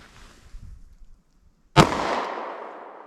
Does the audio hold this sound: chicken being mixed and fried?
no